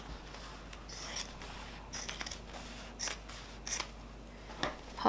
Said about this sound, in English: So I cut this bit off.